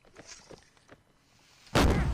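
Cannon artillery fire in the Mount and Blade North & South mod during a Confederate artillery line battle: a single sudden, loud booming blast near the end, breaking a quieter stretch of faint distant battle noise.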